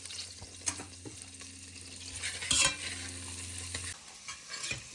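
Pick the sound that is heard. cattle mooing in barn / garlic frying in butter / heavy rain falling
garlic frying in butter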